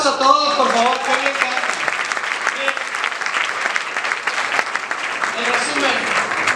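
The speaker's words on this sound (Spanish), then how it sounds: "Fuerte aplauso a todos, por favor." Audience applause rising into a sustained, loud wash of many hands clapping, with a voice speaking briefly at the start and again near the end over the noise.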